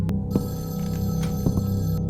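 A telephone rings in the horror video game Evil Inside, a steady electronic tone with a low hum beneath it, heard close and alone.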